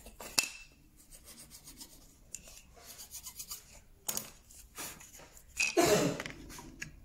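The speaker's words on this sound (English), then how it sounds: "Take the edges off." A countersink tool takes the edges off a countersunk hole in a wooden carriage clock shelf, giving a few short, close scraping and rubbing bursts separated by quiet pauses.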